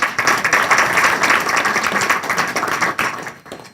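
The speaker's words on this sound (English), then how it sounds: "Give him a round of applause." Audience applause at an African American studies panel discussion, loud, close clapping from a room of people with a dense rapid patter that swells, holds, then tapers off near the end.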